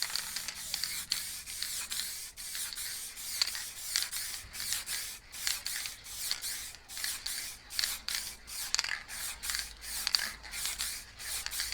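Black spray paint hisses from an aerosol can in a rapid series of short bursts, close and fairly quiet, blending the background of a planet painting.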